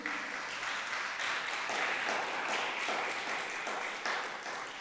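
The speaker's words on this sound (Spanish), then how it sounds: "Dale un fuerte aplauso a Jesús." A congregation at an online church service claps steadily, a bright, dense patter of many hands that carries on evenly and thins slightly toward the end.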